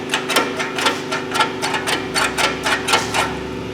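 The parking brake on a Cadillac Escalade engages on the rear brake shoes, giving a close, steady run of sharp mechanical clicks and taps in quick rhythmic succession, about a dozen in all.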